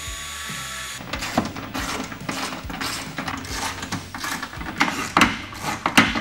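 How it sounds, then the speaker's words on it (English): A power tool slots a hole in a rail on a Jeep Gladiator JT, giving a rough grinding whir with irregular clicks and metallic scrapes, close by and continuous. "So we're just going to do a little slotting of the hole."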